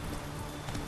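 Horse hooves in The Witcher 3 video game, a quick, busy patter of clip-clop steps heard under game ambience, fairly loud and continuous over a brief stretch.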